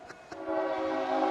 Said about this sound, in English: it can't be a game at Duncan Field without a choo-choo train coming through